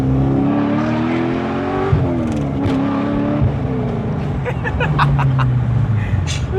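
A car fitted with a custom exhaust drives along, its engine droning loud and close as the pitch rises and falls with gear changes and throttle, with people talking over it.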